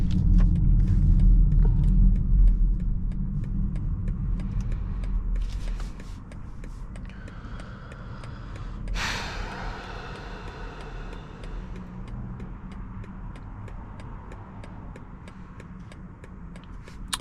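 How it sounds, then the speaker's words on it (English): A 2024 BMW X5 xDrive50e plug-in hybrid SUV rolling along quietly, with soft low road and tire rumble, a fading engine hum, and a brief brighter whoosh midway, all heard from inside the cabin without talking. "I love the way this X5 rides and how quiet it is."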